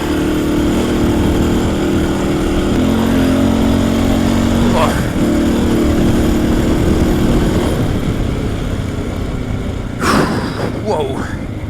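The engine of a motorcycle, an XR600R or XT600 Ténéré, labours steadily through deep riverbed sand in Morocco with a loud, constant drone that shifts tone midway, broken by a couple of sharp rattling bursts near the end as the rider talks.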